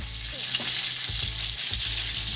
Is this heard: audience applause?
no